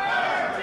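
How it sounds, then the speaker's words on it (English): Wrestling crowd chanting at a Legends Tour show during a waistlock hold, a dense, steady roar of many voices filling the hall, loud and continuous for the brief moment. "Crowd chanting 13 as Sweeney wrenching away on that waistlock"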